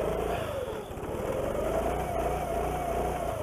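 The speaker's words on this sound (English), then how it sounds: "Oh, hear that bouncing off the rev limiter." A Subaru-powered go-kart engine holds near its rev limiter, a loud, continuous buzzing drone with a slight dip in pitch before it surges back and stutters against the cutoff.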